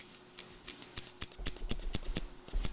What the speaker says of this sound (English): It's blade rubbing right now.